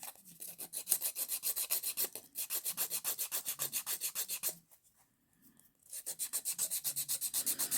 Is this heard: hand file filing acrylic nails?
yes